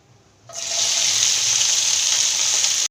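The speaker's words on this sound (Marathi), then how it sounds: "आपण त्यामध्ये आता भेंडी सोडून आपण भेंडी तेलामध्ये फ्राय करून घेऊ" Okra hits hot oil in a pan and erupts into a sudden loud, bright sizzle that holds steady for a couple of seconds after a quiet start, then cuts off.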